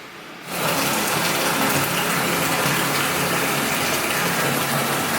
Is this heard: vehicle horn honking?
no